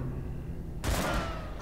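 A gunshot rings out in the video game Darkest Dungeon as a single sudden loud blast that breaks over a steady background of game ambience and then trails off in a brief rumbling tail.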